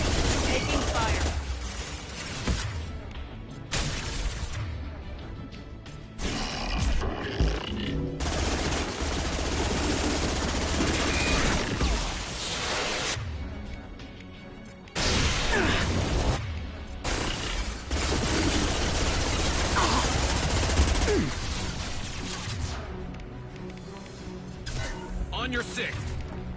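Sustained bursts of automatic gunfire and impacts from a sci-fi shooter battle in Mass Effect 2, loud and dense across the whole stretch with brief lulls, while combat voices call out over the din.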